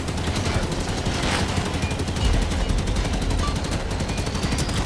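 Rapid sustained gunfire in Halo 5: Guardians aimed at an enemy turret, a dense continuous rattle of shots that holds steady and loud across the whole stretch.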